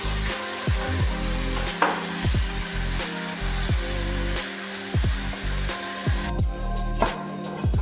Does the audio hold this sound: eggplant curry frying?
yes